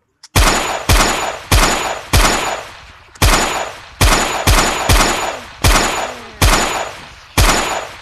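Gunfire in the VR game Gorilla Tag: about a dozen loud, sharp shots in quick succession, each with a short ringing tail, fired in an uneven rhythm at close range.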